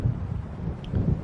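Low rolling thunder from an approaching storm over lake waves in Alan Wake Remastered, a deep rumble that swells, eases, then swells again, without speech.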